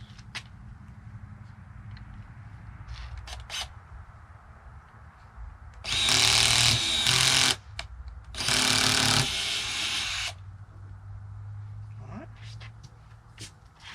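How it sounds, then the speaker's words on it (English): A power drill boring holes to size for a Harley-Davidson Air Wing Tour-Pak rack, two loud close whirring bursts of about a second and a half each, with quiet handling sounds around them. "let's get these drilled to the proper size"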